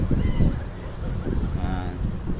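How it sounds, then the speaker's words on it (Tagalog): Choppy sea waves wash steadily against the pier in Manila, a continuous rough surge of water mixed with gusting wind noise on the microphone. "Medyo maalon ngayon mga kamormor."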